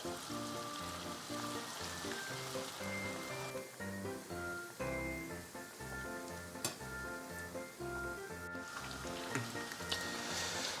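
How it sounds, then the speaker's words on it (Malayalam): Chicken pieces for crispy lemon chicken fry in oil over a low flame, giving a constant crackling sizzle with small pops throughout, heard beneath steady background music. "ഈ ചിക്കൻ പീസസ് ഇതിലേക്ക് ഇടുന്ന് ഫ്രൈ ആക്കി എടുക്കണം"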